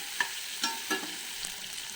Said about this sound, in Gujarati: ડુંગળીને આપણે તળવા દેવાનું